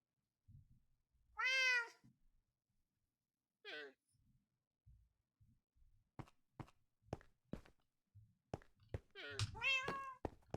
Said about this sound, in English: I have a black cat right at my front door, named William.